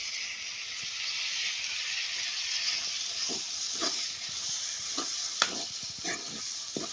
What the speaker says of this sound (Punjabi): ਮਸਾਲਾ ਆਪਣਾ ਭੁੱਜ ਗਿਆ ਤੇ ਹੁਣ ਆਪਾਂ ਪਾ ਦਾਂਗੇ ਜੀ ਟਮਾਟਰ